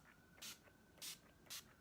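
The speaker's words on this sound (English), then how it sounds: "Set this with my new favorite setting spray" Three quick bursts of Urban Decay All Nighter setting spray misted onto a made-up face, each short hiss close and crisp, evenly spaced about half a second apart against a quiet room.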